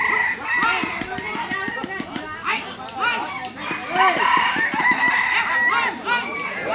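Roosters at a community rooster-crowing competition crow loudly and repeatedly up close, with clucking hens and the chatter of people and children all around.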